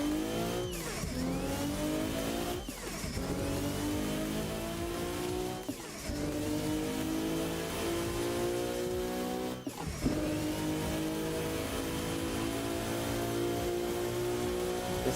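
A Volvo in the Assetto Corsa racing game revs hard under full acceleration, the engine note climbing and dropping through repeated gear shifts, loud and steady with no talk.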